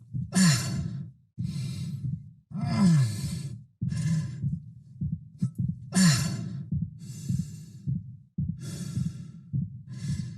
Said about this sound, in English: we start to introduce little winces of pain mixed into his breathing cycle